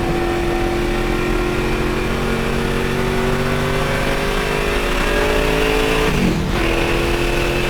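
A high-value Mustang's engine roars loud and close, holding a steady high rev with a rising tone, then briefly dips and shifts pitch before climbing again, with no voices.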